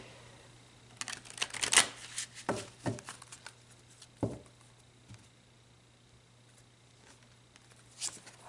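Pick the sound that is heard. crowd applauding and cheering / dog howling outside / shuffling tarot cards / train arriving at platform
shuffling tarot cards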